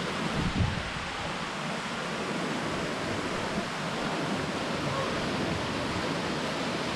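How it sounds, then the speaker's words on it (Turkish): Small waterfalls in Göynük Canyon near Antalya, with clear water rushing in a steady, broadband roar that fills the whole clip evenly and close by. "Bunlar küçük şelaleler."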